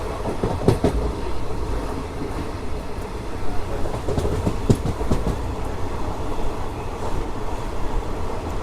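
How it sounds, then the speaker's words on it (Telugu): A special train from Cherlapalli to Tirupati, pulled by a WG9 locomotive along the main line, gives a steady close rumble throughout with a sharp clickety-clack of wheels over rail joints at irregular moments, and no talk. "సో మనల్ని పుల్ చేసే లోకోమోటివ్ వచ్చేసి WG9 లోకోమోటివ్ అయితే మనల్ని పుల్ చేస్తుంది"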